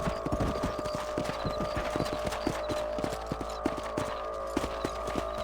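Horse hooves clip-clop steadily in a Red Dead Redemption ranch setting, a run of regular close hoofbeats with a faint background hum and no talk.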